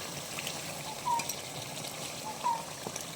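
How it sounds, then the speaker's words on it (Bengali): Water trickles into a pot of mutton kosa cooking in a Bengali kitchen, a soft continuous pour at close range with faint background sizzle and no talking. "তার জন্য আমি একটু সামান্য জল দিয়ে দেবো।"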